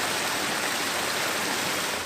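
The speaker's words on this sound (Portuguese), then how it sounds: "A cascata Losh" The Losh cascade in Central Park, water tumbling down a small waterfall along a stream, producing an even, unbroken hiss and rush at steady loudness with no voices.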